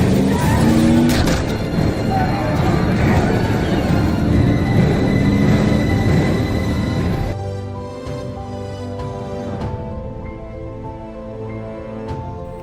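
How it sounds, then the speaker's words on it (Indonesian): A motor vehicle, an RV, drives off fast and loud, its engine and tyre noise roaring steadily before dropping to a quieter hum. "Lalu Gary dan keluarga mengambil sebuah mobil RV dan tancap gas dari kota itu"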